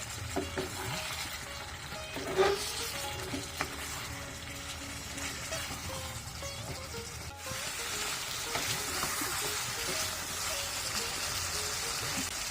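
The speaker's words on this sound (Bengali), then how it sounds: "ঢাকনাটা উঠিয়ে ভালো করে একটু নেড়ে ছেড়ে দেবো" Beef kala bhuna cooking in a pot, uncovered and stirred: a dense, continuous sizzle and bubbling with scraping strokes of the spoon, a clank near the start, the hiss swelling louder in the second half.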